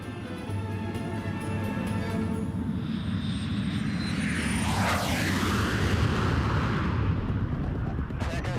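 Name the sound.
aircraft carrying a space plane in flight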